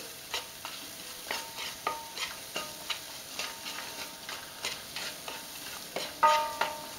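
Soft sizzling of vegetables sweating in a frying pan for a prawn and chorizo risotto, with frequent light ticks and taps, quiet and close, no talking.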